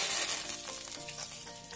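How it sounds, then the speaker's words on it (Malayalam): Curry leaves sizzle loudly in hot coconut oil for a Kerala karimeen (pearl spot fish) curry, a dense steady crackle with bright spattering pops throughout and no talk. "എണ്ണ നല്ലപോലെ ചൂടായി വന്നിട്ടുണ്ട് ഇനി നമുക്ക് ഇതിലേക്ക് വേപ്പില ഇട്ട് കൊടുക്കാം"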